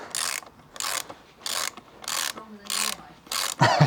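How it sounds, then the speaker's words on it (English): A hand ratchet fitted with a 22mm socket works a motorcycle axle nut, giving six crisp clicking bursts in a steady back-and-forth rhythm, close and clear, with no talk. "22mm socket, and then let's see if this wants to budge"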